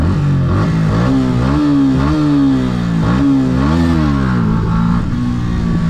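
A loud Yamaha YZF-R125 motorcycle engine revs up and down repeatedly, pitch rising and falling in several sweeps, close and alone without voices.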